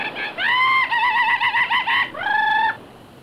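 A voice imitates a rooster, giving a long, bright crowing call in two rising and wavering phrases, loud and alone against quiet background noise.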